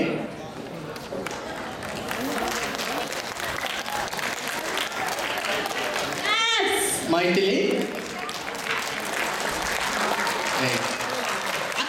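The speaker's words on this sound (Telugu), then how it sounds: "చప్పట్లతో పిల్లలను ఆశీర్వదించండి, వారిని ప్రోత్సహించండి." Audience applause for children's presentations at a school event, a steady wash of clapping filling the room, with voices talking and calling out over it throughout.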